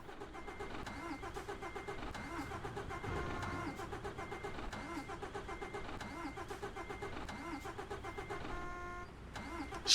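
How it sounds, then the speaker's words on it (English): A truck in Euro Truck Simulator 2 cranks repeatedly without catching, a steady mechanical starter whir that runs for several seconds at moderate volume, ending with a short louder burst. "You can hear I can't start the engine."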